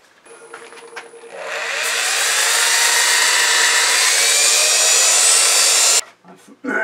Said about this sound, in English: Now I'm going to sand it